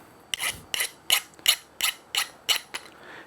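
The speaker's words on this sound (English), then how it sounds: "But I'm just going to use a file" A hand file draws across the sharp edges of cut metal in about eight even rasping strokes, each a short gritty scrape with brief pauses between, close and clear.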